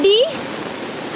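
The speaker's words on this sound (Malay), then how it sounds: "Hujan." Steady rain falling at Deru Alam Campsite, a broad even hiss heard close, with a brief voice at the start.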